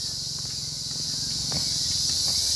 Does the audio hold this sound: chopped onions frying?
no